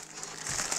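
A plastic bag crinkles around a desk fan during unpacking. It gives a short, soft rustle that thickens slightly toward the end.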